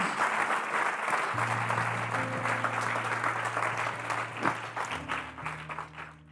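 A church congregation bursts into strong, continuous applause during a sermon, a full crowd of hands filling the room while a sustained low musical tone plays underneath.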